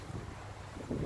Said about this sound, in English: It's very, very windy today and very cold